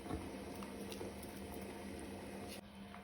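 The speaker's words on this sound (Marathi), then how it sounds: "हुमणाक आमच्या खतखतो आयलो, नुस्तें बी बरें शिजलें तातूंतलें।" Goan sole fish curry simmers gently over a low gas flame, a steady soft bubbling and popping close by with no voices.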